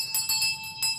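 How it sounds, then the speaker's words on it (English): An old electric or mechanical house bell rings in bursts, a bright sustained metallic ring repeating several times in quick succession within a second, fairly loud and clear in an indoor setting. "But it's the bell, sir."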